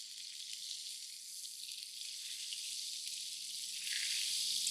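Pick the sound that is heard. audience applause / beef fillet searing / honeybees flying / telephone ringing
beef fillet searing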